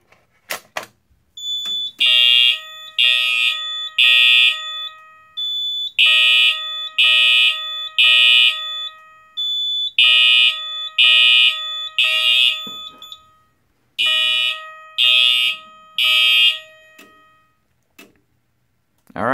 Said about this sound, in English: now I'm just going to go ahead and pull the pull station